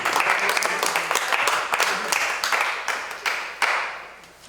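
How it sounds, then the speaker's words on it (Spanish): A crowd at a workshop applauds with dense, continuous clapping that gradually thins and fades. "Un aplauso."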